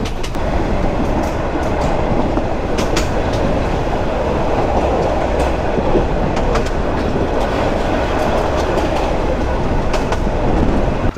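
The Nazirhat local train runs along, heard up close from the open rear door of its last coach: a loud, continuous rumble with steady clickety-clack of wheels over rail joints and occasional sharp metallic clanks.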